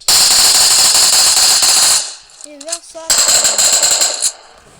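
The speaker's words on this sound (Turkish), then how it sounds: "Arkamızda sağdan sıkıyor." Rapid automatic gunfire fills the PUBG match, loud and continuous, breaks off briefly for a couple of short electronic tones, then resumes in another sustained burst.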